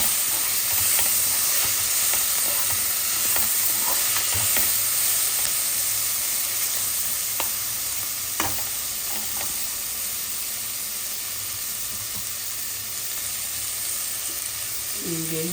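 Tomatoes fry in a hot pan, giving a loud, continuous sizzling hiss with occasional light knocks of a stirring spoon.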